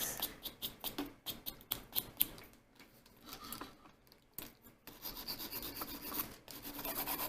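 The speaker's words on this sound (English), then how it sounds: "So again, here I am just shaving down this side of the nail" A nail file with 180 and 100 grit sides shaves down the side of a fingernail before nail tips are applied, giving quick, close, fairly faint scratchy strokes in an uneven rhythm with short pauses.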